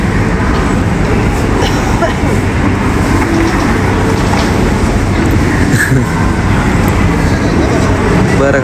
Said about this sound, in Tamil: வேறு கார் ஒன்றும் போகுது பக்கத்தால்.